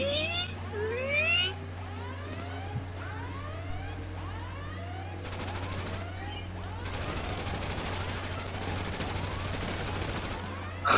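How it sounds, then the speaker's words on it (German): Gunfire in GTA V Online, sustained bursts of shots that grow dense and continuous in the second half, layered with wailing police sirens, with little talk. "Alle schießen auf die Leiche."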